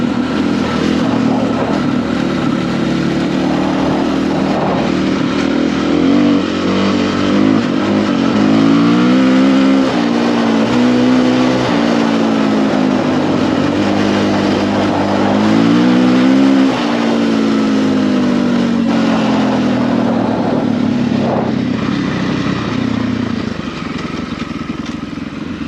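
A Husqvarna FE450 dirt bike ridden hard on forest dirt roads, its engine loud and close, revving up and down continuously with rising and falling pitch while wind buffets throughout.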